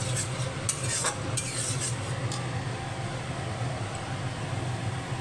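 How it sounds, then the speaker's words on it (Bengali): Yogurt-coated fish curry (doi katla) is stirred and fried in a pan, with a constant low sizzle and occasional scrapes and clinks of the utensil against the pan, close and steady. "এবারে আমি এটা কষতে থাকবো।"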